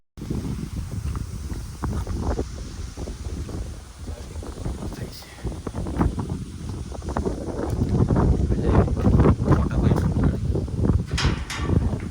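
Strong wind buffets the microphone in gusty low rumbles, growing heavier toward the end, with no clear speech over it.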